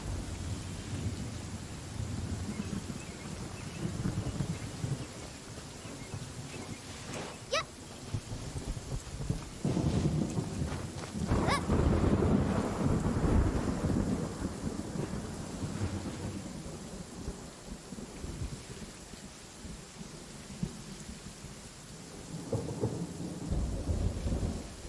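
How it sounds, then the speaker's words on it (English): A thunderstorm in the video game Genshin Impact, with steady rain and several heavy rumbling thunder rolls. A sharp, loud crack comes near the middle, and the rain keeps hissing between the strikes. "ฟ้าผ่าเลยปะเนี่ย"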